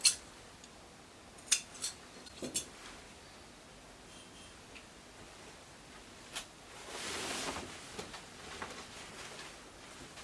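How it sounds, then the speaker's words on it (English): Scissors snipping through dress fabric while the neckline is cut out, faint and intermittent, a few soft crisp snips with rustling cloth in a quiet room. "I'll bring the front part out and cut the neckline."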